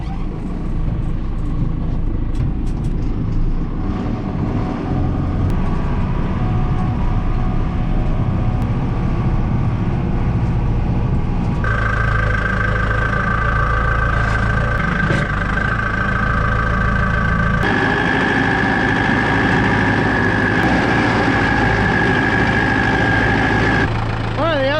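A farm tractor engine idles steadily on a strawberry farm, a loud, continuous close-up rumble with a rising tonal whine partway through, running throughout with no pauses.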